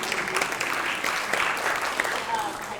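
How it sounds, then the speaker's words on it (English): Brief applause from an audience at a talk, a soft wash of clapping for a research assistant, fairly steady and moderately loud for under three seconds. "Everybody please give Jonathan a round of applause."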